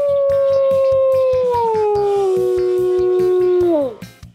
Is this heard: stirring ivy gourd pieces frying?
no